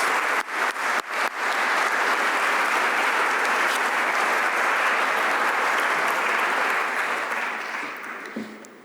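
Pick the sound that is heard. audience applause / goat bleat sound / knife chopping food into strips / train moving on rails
audience applause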